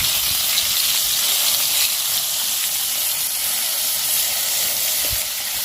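Crabs dropped into hot oil over a fire during an outdoor crab-hunting cook-up, giving a steady, loud, broadband sizzle that holds evenly across the whole stretch with no talk.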